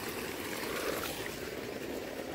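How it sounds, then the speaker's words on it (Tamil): Irrigation water flows quickly along a farm channel, a steady soft rushing and trickling at low volume with no talk. "இங்கேருந்து பார்த்தீங்கன்னா வாய்க்காலில் சும்மா சல்லுன்னு தண்ணி போகும்"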